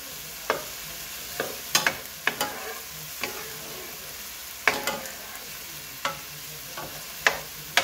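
Tomato being stirred into bitter gourd frying with sardines and eggs, a spatula scraping the pan in irregular close strokes over a light sizzle.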